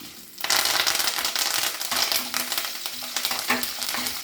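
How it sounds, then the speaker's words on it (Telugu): Loud, dense crackling and spattering of dried red chilli, green chilli, ginger and curry leaves tempering in hot oil starts abruptly and keeps popping steadily, with occasional clinks from stirring. "పోపు వేగాలి పోపు వేగింది"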